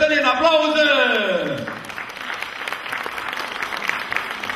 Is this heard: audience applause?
yes